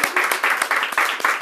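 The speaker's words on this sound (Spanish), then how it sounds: "Un aplauso para Margot, por favor, bien grande" Short burst of audience clapping for a guest on a Spanish-language talk show, a brisk run of close, rhythmic claps from a small crowd.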